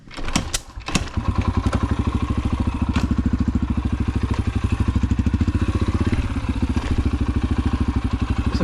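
A dirt bike engine fires after a few knocks and thumps, then runs with a steady, fast-pulsing beat close by, throttled during a wheelie demonstration, with no talking over it.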